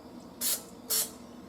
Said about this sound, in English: I just put a little spray in the bottom.